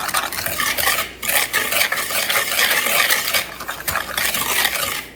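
A spoon stirs a cinnamon and sugar mixture in a bowl, making a steady, continuous scraping and swishing close up, with brief pauses and clinks against the bowl and no talk.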